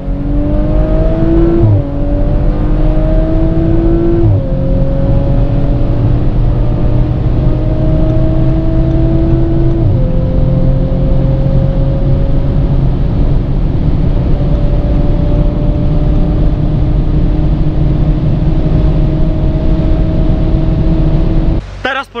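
An Audi RS5 with a 450-horsepower V6 TFSI engine accelerates hard in Dynamic mode, its engine note climbing loudly through gear shifts with brief dips between them, steady and close for over twenty seconds.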